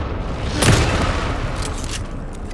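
A shotgun blast in the video game Alan Wake 2: one broad boom at about the first quarter of the clip. It is loud and full, and a dense, noisy game background sits under it.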